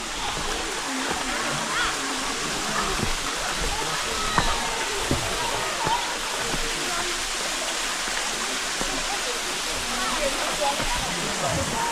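Khlong Lan waterfall in Kamphaeng Phet at low summer flow, a steady broad rush of falling water with occasional splashes, continuous and fairly close throughout.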